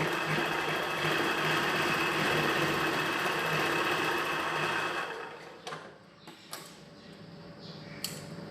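A sewing machine stitches a chudidhar pant with a fast, steady whirring drone for about five seconds, then stops, leaving a few sharp clicks and handling knocks.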